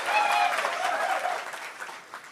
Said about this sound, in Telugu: నువ్వే చప్పట్లు, మోదీ గారి చప్పట్లు కొట్టాలి మనం ఆయన చేసిన కృషికి.